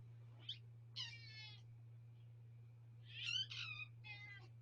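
A pet cat gives several short meows, two near the start and a cluster later, heard faintly against a quiet indoor room with a constant low electrical hum underneath.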